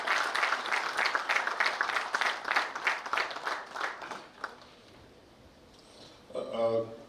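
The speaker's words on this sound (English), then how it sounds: "Can we give Mr. Reginald Lorenzo a big round of applause?" A crowd applauds, dense clapping that swells and then gradually dies away, followed by a brief quiet and a short voice at the end.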